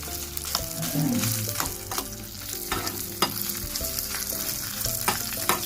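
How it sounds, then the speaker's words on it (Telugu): Dried red chillies, split and deseeded, frying in oil in a pan, with a steady crackling sizzle and intermittent scraping stirs of a spoon against the pan, close and moderately loud, with no talking. "తీసేసి ఇందులో ఈ మిరపకాయలు వేసి బాగా వేయించుకోవాలి."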